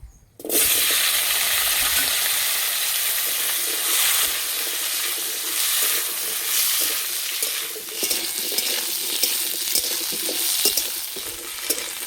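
Chopped carrots and potatoes hiss and sizzle steadily in hot oil in a wok, a continuous loud frying crackle that begins abruptly and carries on alone.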